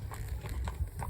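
Hooves of Romeo, a 16-year-old veteran horse, clip-clop in a steady rhythm at close range, with several regular thuds over a constant low rumble and no talk.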